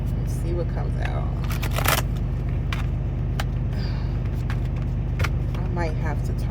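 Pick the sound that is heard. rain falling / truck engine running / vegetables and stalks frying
truck engine running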